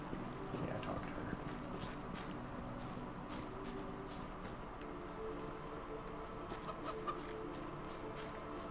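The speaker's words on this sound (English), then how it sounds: "I should kill that chicken." A chicken clucks in the fantasy role-playing video game Divinity II, with soft scattered clucks over a low steady game ambience and faint clip-clop, kept quiet and in the background throughout.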